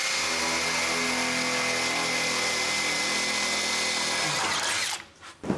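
A power drill bores a hole near the brake line of an International C1100 pickup truck, running steadily and loud for about five seconds before winding down and stopping.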